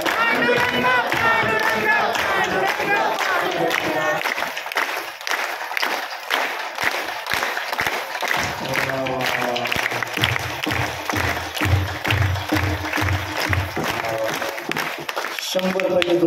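An audience claps in a steady rhythm along with loud group chanting and singing at a kirtan held during a Shiv Mahapuran katha in Nitrud, the sharp claps running under the voices throughout.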